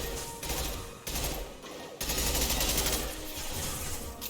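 Rapid automatic gunfire from a heavy-kicking gun in Mass Effect 2 rattles on in dense, sustained bursts. There is a brief gap near the middle before the firing resumes at full intensity.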